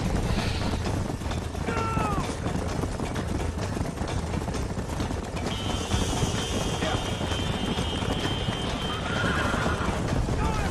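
Galloping hooves pound steadily during a horse race in the video game Red Dead Redemption while horses whinny and neigh now and then, all over a constant rumbling backdrop.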